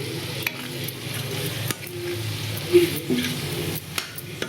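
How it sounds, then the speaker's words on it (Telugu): A mango and raw prawn curry with turmeric is stirred in a pan, a soft, steady frying hiss with scattered spoon taps and scrapes against the metal, close by with no talk. "ఇలా పసుపు వేసి మనము కలుపుకోవాలి."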